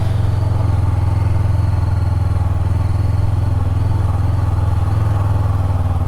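A Honda CB500X dual-sport motorcycle engine pulls steadily at low speed up a rough off-road trail, a loud, constant close-up drone with a faint mechanical clatter and no talking.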